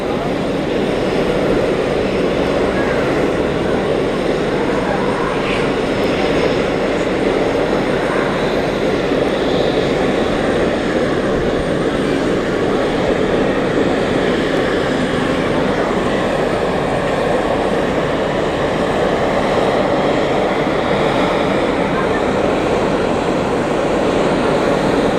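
An Etihad Airbus A321 goes around at Zurich Airport, a loud, continuous jet roar filling the long stretch with little change in level, close and unbroken.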